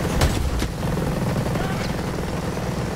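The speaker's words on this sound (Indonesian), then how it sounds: "Oh shit, helicopter." A helicopter in a video game, heard as a steady rotor drone with a low chop that fills the whole clip at constant loudness. A couple of sharp bangs come early, near the start.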